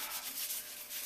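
Brief soft rubbing as ink is wiped off a rubber stamp, a steady close-up swishing friction that lasts about a second.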